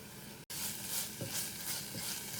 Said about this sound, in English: Now we need to fry this at least for a couple of minutes.